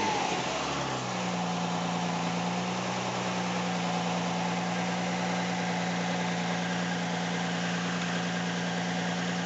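A Nissan 350Z engine idles steadily with a low, constant rumble and a faint rhythmic puffing from an exhaust leak, running alone without any talk.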